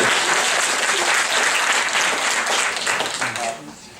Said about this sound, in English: Can I give a big round of applause to Speaker Rosenberg again?